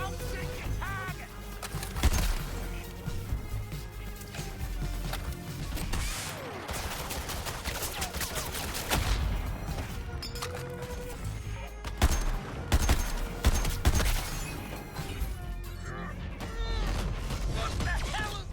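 Repeated bursts of gunfire crack through a chaotic Suicide Squad: Kill the Justice League fight on PS5, irregular volleys mixed with mechanical clanks and impacts, with character voices talking over the action.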